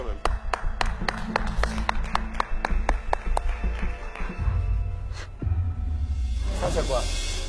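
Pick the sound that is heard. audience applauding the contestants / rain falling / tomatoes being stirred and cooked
audience applauding the contestants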